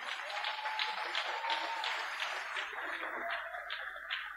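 Applause from an audience at an international church conference ripples steadily for a few seconds, a dense patter of many hands clapping, moderately distant and even in level.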